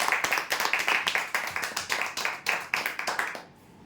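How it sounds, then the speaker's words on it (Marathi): Applause for the winners of a weekly prize draw: a crowd claps steadily and fairly close for about three and a half seconds, the pattering bursts swelling and easing before fading into quiet room tone. "जोरदार टाळ्या यांच्यासाठी"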